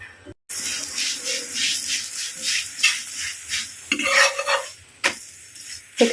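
Dough cooks in oil in a pan with a close sizzle and repeated rhythmic scraping and stirring strokes, plus a few sharper knocks against the pan.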